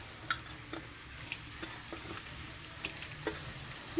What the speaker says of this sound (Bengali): পেঁয়াজটা আমি হালকা বাদামি কালার হওয়া পর্যন্ত এভাবে করে ভেজে নেব